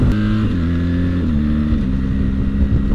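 BMW R 1300 GS Adventure motorcycle (2024) accelerating in sport mode, its engine note climbing steadily in pitch through a gear change, loud and continuous with no talking.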